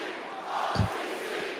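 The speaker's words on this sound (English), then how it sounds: "People cheering." A wrestling arena crowd roars in a sustained wash of cheering at moderate distance, with one brief deeper shout swelling out of the noise midway.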